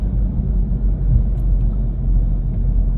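Inside a car crawling through stop-and-go traffic on a German road, with a low, steady rumble of engine and road noise and no talking.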